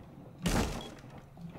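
A kitchen door in a video game takes a single sharp, crunching hit, a loud burst of breaking wood that fades into quiet background ambience.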